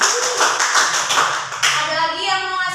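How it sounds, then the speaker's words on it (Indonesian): Schoolchildren in an Indonesian classroom clap in rhythm for a pupil who answered a question, a brisk patterned group clap lasting over a second before giving way to a teacher's voice. "Jadi tepuk tangan untuk Nak."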